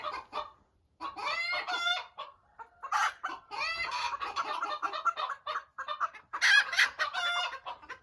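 Loud, agitated alarm clucking and squawking from several scattering chickens in bursts, close by, with short pauses between the outbursts.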